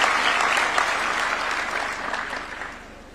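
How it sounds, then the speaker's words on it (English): An audience at a diploma ceremony gives a sustained round of applause, with dense, steady clapping that slowly fades toward the end. "A round of applause for her."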